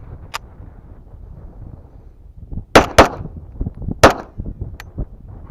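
Pistol firing Winchester 115 grain ammunition from a Wilson Combat magazine, with feed and weak ejection trouble: a few loud, sharp outdoor gunshots, two close together and then two more spaced apart, each followed by a short echo.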